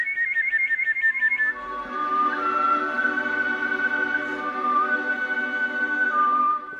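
A clear, high whistle, starting with a quick run of trilled pulses, then sliding into long sustained tones with some wavering, close and steady.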